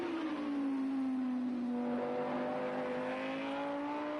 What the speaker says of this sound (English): you heard that little hesitation from Roaster